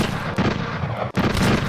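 Rapid gunshots in the Rapid Fire virtual reality shooter, loud close blasts in quick succession with a brief gap between bursts.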